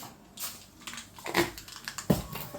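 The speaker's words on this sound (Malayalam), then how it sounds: "കടുക് നല്ലപോലെ പൊട്ടട്ടെ." Mustard seeds pop in hot coconut oil while mango pickle is cooked, heard as faint, scattered sharp crackles and pops spread unevenly over a quiet background, with no voices.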